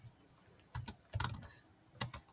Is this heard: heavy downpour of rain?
no